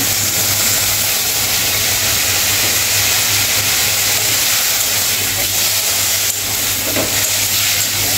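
Vegetables sizzling loudly in a hot pan while being stirred and fried for a Bengali fish curry, a dense continuous hiss with a steady low hum underneath and a brief scrape partway through.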